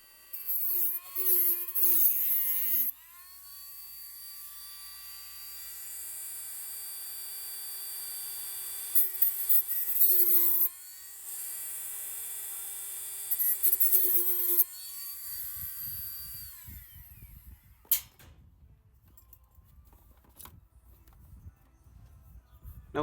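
A small rotary cutting tool whines at a high, steady pitch while cutting around the rear wiper arm nut of a 2008-2015 Dodge Grand Caravan. The pitch sags under load several times, then the tool stops and softer scraping and rustling remain.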